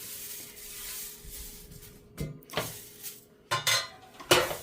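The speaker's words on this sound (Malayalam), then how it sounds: "എണ്ണ ഇല്ലാതെ വേണം മുതിര വറുത്തെടുക്കാൻ" Horse gram being dry-roasted in a pan without oil, with scattered scraping and clinking bursts of a utensil against the pan over a faint steady background hum, growing sharper toward the end.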